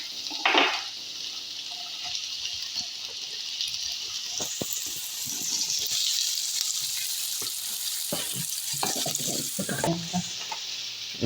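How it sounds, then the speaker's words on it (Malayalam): Chopped onions sauté in oil in a pan, a steady hissing sizzle with intermittent stirring scrapes and knocks, moderately close and with no talking. "ഒന്ന് ഉള്ളി നല്ലോണം വഴറ്റിയെടുക്കാം"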